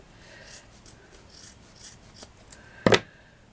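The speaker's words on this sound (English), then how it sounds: "Just now I'm going to cut this in half because it's too big." Scissors snip through vintage rosette trim, with faint rubbing and rasping of fabric before one sharp, close cut near the end.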